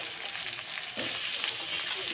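Tomato pieces dropped into a hot frying pan sizzle with a steady, close hiss that swells briefly as they go in, with faint stirring scrapes and no talking.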